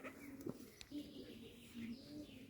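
Racing pigeons coo softly inside a loft, with low repeated coos beneath quiet talk.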